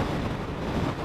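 Strong coastal wind buffets the microphone on a coast road during a memorial motorbike ride, a steady dense roar for about a second with no talk.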